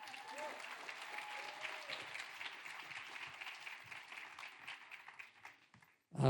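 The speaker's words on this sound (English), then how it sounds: "round of applause" A large crowd at a Ukrainian Canadian congress applauds steadily for several seconds, the clapping fading out near the end before a brief louder sound cuts in.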